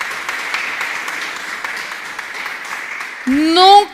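A church congregation applauds during a sermon, a steady wash of clapping that holds for several seconds before a rising sung or sustained tone breaks in near the end.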